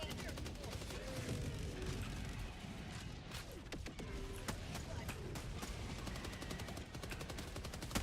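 Rockets and heavy weapons firing in the video game Helldivers 2, a dense, continuous barrage of rapid blasts and explosions layered over constant loud battle noise.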